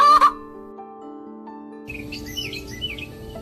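A hen gives a short cluck at the start, followed by quiet hum and then a stretch of scattered chirps and twittering birdsong in the background.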